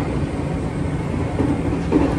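Continuous low rumble and rattle of a Nankai 7100 series train passing through Makurazaki station nearby, steady and heavy throughout with no voices.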